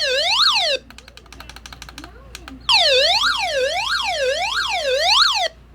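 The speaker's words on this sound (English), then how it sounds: "So this is the SOS sound is." An EoxSmile CR1009 emergency alert radio sounds its SOS alarm: a loud, piercing up-and-down wailing siren that sweeps in bursts, breaks off briefly into a stuttering pulsed beeping, then resumes its rising and falling wail.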